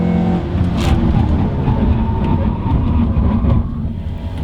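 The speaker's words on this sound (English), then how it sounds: "That's the ABS going on and off, and it's also the tires that are squealing." Loud, continuous road rumble from a car braking hard on new 4-piston brakes, with a rapid pulsing ABS judder and faint tire squeal over the roar.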